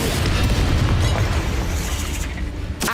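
Confringo fire spell exploding in Hogwarts Legacy, a loud, deep booming blast that rolls on as a sustained rumble, with a sharp crack at the very end.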